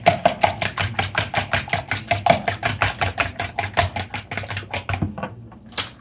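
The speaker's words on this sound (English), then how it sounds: "So I'll be whipping the egg." Eggs being whisked by hand for a scratch-made Black Forest cake: a fast, steady train of rapid clicking strokes of whisk against bowl, close and fairly loud, slowing and thinning near the end.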